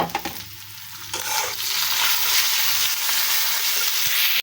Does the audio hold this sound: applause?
no